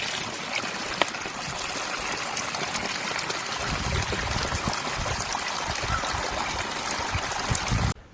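Mountain stream water flowing steadily on an alpine trail near Kedarkantha in May, a continuous close rushing trickle that grows fuller partway through and stops abruptly at the end, with no talking.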